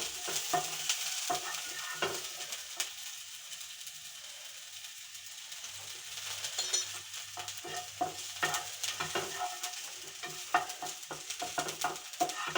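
Onion dosa ingredients frying and stirred in a pan, a soft sizzle under repeated scraping and clinking strokes of the spoon, close up, with no talking.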